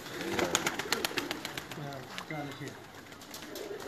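A pigeon released by hand at a champion loft in Sialkot gives quick sharp wing claps and flutters mixed with cooing, close and fairly loud, while people talk nearby.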